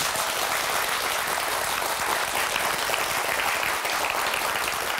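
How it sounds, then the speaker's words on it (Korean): A television studio audience on a Korean KBS science program claps steadily and densely, a bright, even wash of applause holding at one level throughout. "5분께 큰 박수 주시기 바랍니다"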